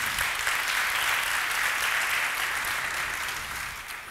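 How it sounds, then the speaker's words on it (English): A large audience at a search-marketing conference applauds in a steady, dense wash of clapping that holds evenly and fades slightly toward the end. "Let's give these 6 people a round of applause"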